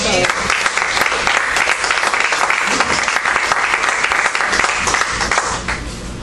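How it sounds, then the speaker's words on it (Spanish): A church congregation claps in loud, continuous applause that fills the room evenly before tapering slightly at the end. "Den un aplauso a Dios."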